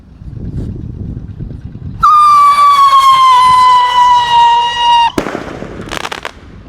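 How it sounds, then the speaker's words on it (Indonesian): A pyro rocket firework launches with a loud, piercing whistle that rises then glides slightly downward for about three seconds before cutting off sharply, followed by faint crackles, outdoors during a firework session at the start of Ramadan. "Piro roketer siap meluncur."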